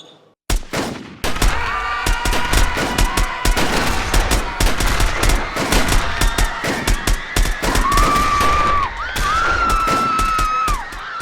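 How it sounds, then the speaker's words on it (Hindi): Gunfire sound effect of soldiers firing on a crowd at Jallianwala Bagh, Amritsar: loud, dense volleys of rapid shots that crackle continuously after an abrupt start, with brief pauses and a faint whine. "हर तरफ गोलियां बरसने लगी और लहू की नदियां बहने लगी।"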